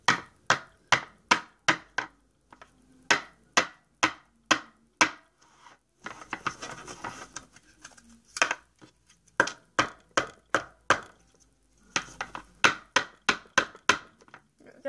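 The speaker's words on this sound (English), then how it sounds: "I'm just going to tap it 3 times on my here" A small container of homemade eye shadow primer is tapped against a surface over and over, producing a long series of sharp, close knocks in steady bursts with brief pauses between them.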